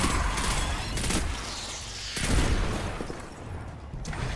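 Rapid gunfire and booming explosions from Destiny 2 gameplay, dense bursts of shots with heavy blasts around the midpoint, loud and continuous throughout.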